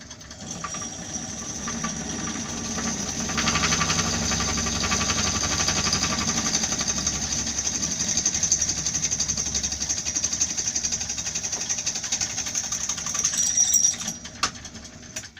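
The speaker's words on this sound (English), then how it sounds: "then we'll drill the hole for the shoulder washer and see how that fits" A drill boring a hole for a shoulder washer while building an LED uplight, a steady close grinding whir that runs for about fourteen seconds and then winds down.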